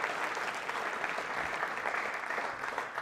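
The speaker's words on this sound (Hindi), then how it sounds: "तालियां बजाइए श्रद्धा के रूप में सम्मानित कालीबाई के लिए" Audience applause at a university quiz show, in tribute to a historical figure, a dense, even wash of many hands clapping steadily throughout, moderately loud, with no voices standing out.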